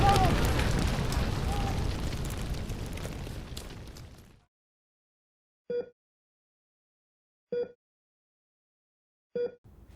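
A burnout with nitrous oxide in a family car erupts into a roaring, rushing blast of flame that fades out over several seconds, followed by silence broken by a few short distant clicks.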